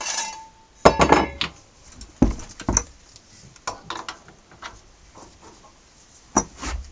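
Metal tools clink and clatter against the compensator nut of a 2006 Harley-Davidson Dyna Wide Glide as it is loosened, with a few sharp knocks and scattered lighter taps close by, no talk.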